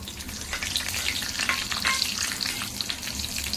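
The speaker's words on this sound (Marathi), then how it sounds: "तेलामध्ये टाकले ते सुताऱ्याची फारी" Dried small ribbon fish (sutara) frying in hot oil with no salt or spices added yet, giving a dense, steady sizzle and crackle that stays close and loud throughout with no voices.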